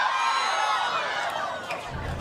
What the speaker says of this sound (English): we're going to just take a listen to the crowd